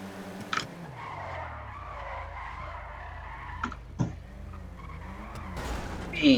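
A tuned Elegy RH8 in Grand Theft Auto V drifts with long tyre skids and engine whine, punctuated by a few sharp bumps and a louder squeal at the end.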